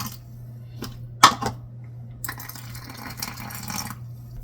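Hot water from a kettle pours into a glass jar of baked beans after a few clinks, a soft steady splashing stream that fills the last seconds.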